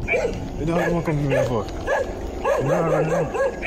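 Several small dogs bark and yip excitedly in rapid overlapping bursts at night, loud and close, with a continuous noisy background throughout.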